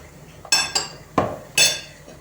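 A spoon clinks against a metal pot of salted water four times in quick, uneven strokes, bright metallic taps close by.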